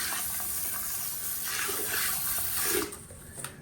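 A handheld bidet sprays a steady, close hiss of water against a toilet bowl, easing off near the end.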